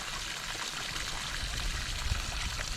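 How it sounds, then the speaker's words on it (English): Water trickling and dripping through moss at a forest spring, a soft continuous patter with small irregular drops, faint and close, with no voices. "The water dripping through the moss"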